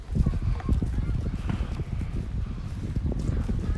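Donkey hooves clop on hard ground at a petting zoo in Beppu, Japan, giving a close, uneven patter of steps with wind buffeting the microphone and people talking nearby.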